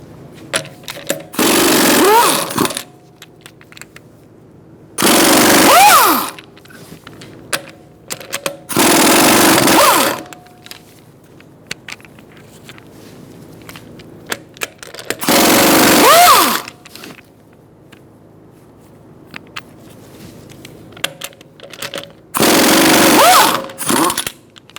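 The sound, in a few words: removing rear wheel of Ford Focus with 19mm socket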